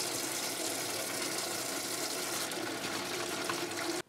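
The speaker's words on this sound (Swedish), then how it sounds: "det är att fylla den här påsen med vatten." Water running steadily into a plastic bag, a continuous broadband splashing and gurgling that stays loud and even for about four seconds before cutting off abruptly.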